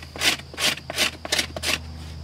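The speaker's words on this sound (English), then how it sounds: "I could take my knife, lay this out flat, and scrape" A knife blade laid flat and scraped across tinder to prepare a flint and steel fire, five rasping strokes at an even rhythm, close and fairly loud.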